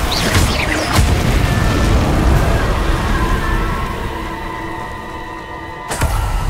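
Confringo exploding curse blast in the video game Hogwarts Legacy, a loud rumbling boom sustained for several seconds with sharp cracks at the start and a fresh hit near the end.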